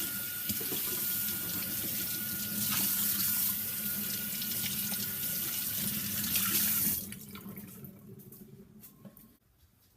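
Water runs steadily from a kitchen sink faucet, a loud broadband rush that cuts off abruptly at about seven seconds, leaving faint quiet handling sounds afterward.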